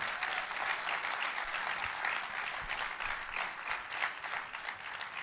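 Sustained audience applause at a political meeting in Sarcelles, a broad steady wash of many hands clapping, fairly distant and even in level throughout without pause.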